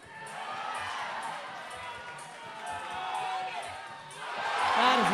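A crowd cheers and whoops for a climber topping a boulder problem at a national cup bouldering competition, a sustained wash of applause and shouts that swells toward the end, with commentary talk over it.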